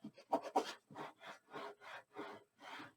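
Paper album edges being burnished by hand, a series of about nine soft, rhythmic rubbing strokes, faint and close with no talk.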